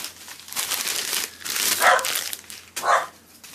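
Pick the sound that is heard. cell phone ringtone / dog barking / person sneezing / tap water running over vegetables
dog barking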